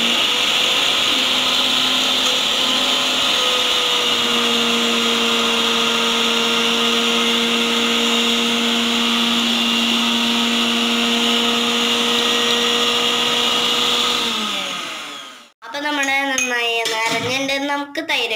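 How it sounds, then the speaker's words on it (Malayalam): Kitchen blender grinding green chutney with green chilli and salt, a loud steady whine held for about fifteen seconds, then a sudden stop and a brief second burst with shifting pitch. "എല്ലാം കൂടി നന്നായി ഒന്ന് അടിച്ചെടുക്കാം"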